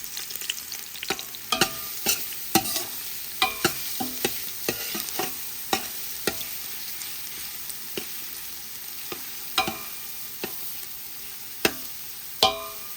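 Garlic frying in a hot pan gives a continuous sizzle, broken by frequent sharp clicks and scrapes of a utensil against the pan that come in an irregular rhythm, close and clear.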